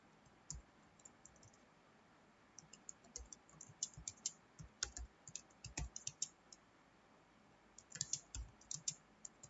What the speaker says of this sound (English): We have to first open the notepad. So we'll open it and now we'll type the program.